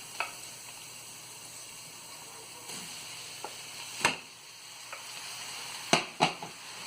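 Ground beef and onion fry in a pan with a steady sizzle, broken by a few sharp clicks and scrapes of stirring.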